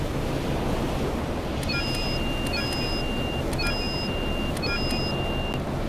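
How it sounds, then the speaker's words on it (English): Ship alarms in the video game Stormworks beep in short repeated tonal pulses, sounding several times over a steady loud wash of wind and ocean noise during a generator malfunction. "Alarms work."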